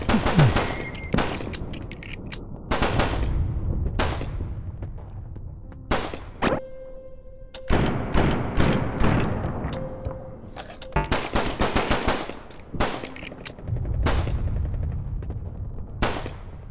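Gunfire in the roguelike game Daikon Hero, rapid bursts of sharp synthetic shots and rattling volleys in clusters separated by short pauses, loud and close with no talk.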